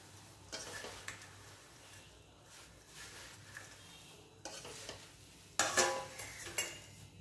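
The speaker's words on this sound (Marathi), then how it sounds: "मी एक डिश घेतलेली आहे आणि एक झाऱ्या आहे, त्याच्या साहाय्याने अगदी अलगद अलगद असा हा हलवायचा आहे" Chivda stirred gently with a slotted spoon in a dish over low heat: intermittent light scraping and clinking strokes, with a few louder rustling bursts toward the end, close and alone.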